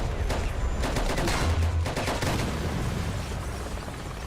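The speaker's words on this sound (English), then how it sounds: "we are not going to just fire our machine gun into the air when we are deep in enemy territory" Machine gun fired into the air during tank combat in a multicrew video game, a dense rattling burst of rapid shots running steadily for several seconds at close range with no talk.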